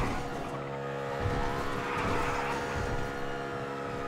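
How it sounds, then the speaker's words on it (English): A car engine in a video game drones on steadily and loudly for the whole stretch, with a rough, buzzing tone and no clear skid. "But this car sounds like fucking shit."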